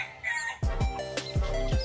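Chickens in a contract-farm coop cluck and squawk close by, a few quick, abrupt calls in a row over a quiet background.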